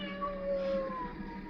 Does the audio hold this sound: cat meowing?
yes